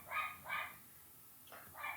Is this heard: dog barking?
yes